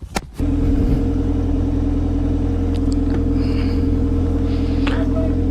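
A vehicle engine catches abruptly at the start and settles straight into a loud, steady running rumble, close up, with no talking.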